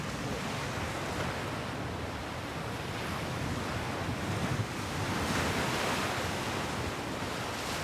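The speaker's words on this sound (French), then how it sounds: "Le gros problème, ce ne sont pas les vagues, mais le vent." Wind and surf on the rocky Irish coast while fishing for sea bass, a continuous broad roar of waves and gusts buffeting the microphone, loud and close with slight swells in intensity, no voices.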